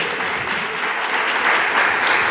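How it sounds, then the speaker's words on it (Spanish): A church congregation clapping during a sermon, a dense, steady wash of many hands applauding at close range, sustained throughout without speech. "Vale la pena, dele palmas al Dios del cielo."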